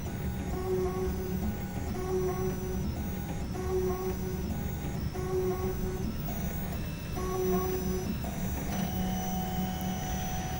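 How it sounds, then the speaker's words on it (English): An AIO Robotics ZEUS 3D printer cleaning its extruder nozzle by swiping it over rubber gives repeated whirring motor moves in a steady cycle, with small ticks over a constant mechanical hum and no talking. "The extruder head will extrude all the printing material through the nozzle, and for that reason it swipes its nozzle over rubber material."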